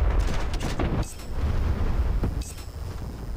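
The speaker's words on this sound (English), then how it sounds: "Okay, drop the bombs." Bombs dropped from a plane explode in War Thunder Mobile: a couple of deep, booming blasts with crackling impact bursts, loud and close.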